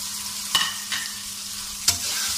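One chopped tomato and five finely chopped green chillies are stirred into a sizzling chicken malai handi, giving a steady frying hiss broken by three sharp spoon scrapes against the pot.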